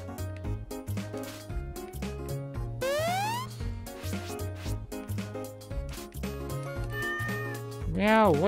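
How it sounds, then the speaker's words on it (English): Game music with steady beats from Catlateral Damage (Litterbox Mode) carries several short cat meows and rising chirpy sweeps, ending with a warbling wobble; a voice is heard talking over it. "Meow, why do you always meow?"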